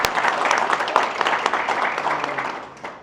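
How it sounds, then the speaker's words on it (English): Audience at a press event clapping, a dense burst of applause that starts loud and gradually thins and fades over about three seconds. "You can clap, it's okay."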